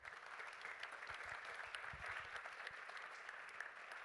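An audience at a conference in Monaco applauds with steady, even clapping that holds at one level throughout, heard at a moderate distance.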